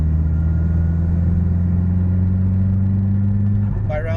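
A turbocharged Mazdaspeed 6 sedan accelerates from about 2000 RPM, its engine holding a steady, loud droning rumble as heard from inside the cabin.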